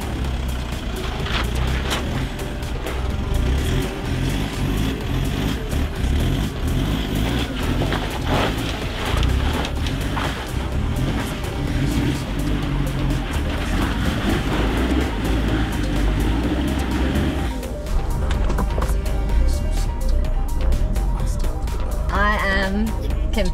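A car climbing a steep hill under steady throttle with a throttle controller fitted: a loud, continuous low engine drone and rumble runs throughout, with people talking over it.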